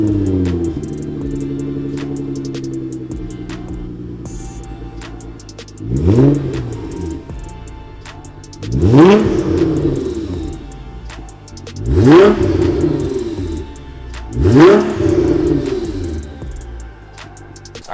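Infiniti Q60 RA500 with a full 102mm titanium exhaust, idling then revved hard four times in close succession, each sharp rise and fall loud and close, with no talk.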